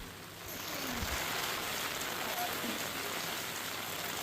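Heavy monsoon downpour in Valsad district, Gujarat, a dense, steady hiss of rain that swells in after the first half-second and holds evenly throughout, with no voices.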